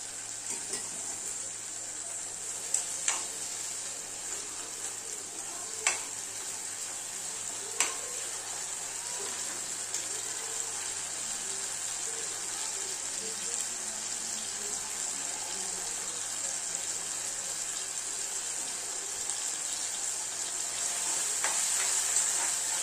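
Chopped tomatoes fry in oil with softened onions for a spicy Kolhapuri egg curry, making a steady, even sizzle throughout. Occasional soft clicks of stirring sit on top, and no one speaks.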